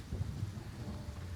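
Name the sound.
rain ambience in Gray Zone video game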